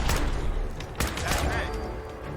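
Preston's missile launcher fires in a video game, producing a quick string of sharp, loud blasts and booms that crowd together over about two seconds.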